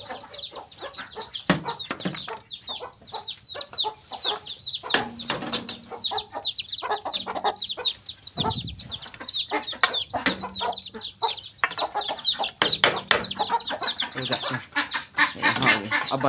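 Ducks pour out of their pen with dense, busy quacking and chatter, many birds calling close together in rapid overlapping bursts, with occasional soft rustles and thumps underneath.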